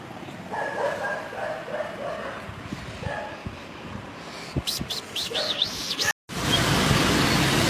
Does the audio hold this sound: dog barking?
yes